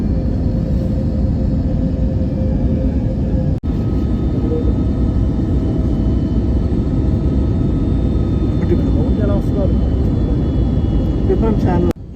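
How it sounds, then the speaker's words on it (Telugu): A passenger airplane lands at the army airport in Prayagraj, a steady, loud engine roar and deep rumble heard from inside the cabin throughout, with a couple of sharp clunks and faint talk. "మా ఫ్లైట్ ఇప్పుడే ప్రయాగరాజ్ రీచ్ అయింది."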